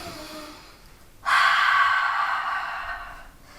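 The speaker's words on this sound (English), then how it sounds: "take a deep breath" A single deep breath taken during a core alignment exercise, a long airy inhale that swells suddenly and holds strong before slowly fading, close and alone.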